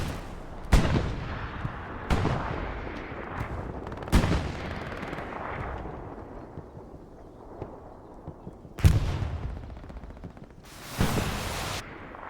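Gunfire in a competitive esports video game match rings out as a series of sharp, separated shots and booms with decaying tails, spaced irregularly over a low background rumble.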